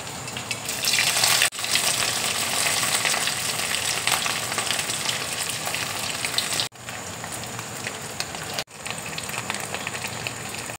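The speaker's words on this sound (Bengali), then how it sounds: "বেরেস্তার তেলেই দেখো আমি পনিরটা এবার ভেজে নিচ্ছি" Paneer pieces frying in hot oil left from frying onions give a loud, steady crackling sizzle that runs throughout with a couple of brief dips.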